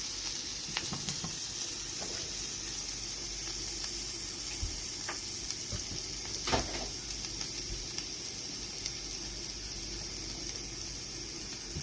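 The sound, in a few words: jalapeno peppers sauteing in hot oil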